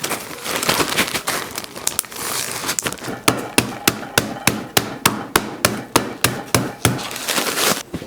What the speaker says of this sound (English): I'm gonna crush them up, and we need 2 cups of graham cracker crumbs.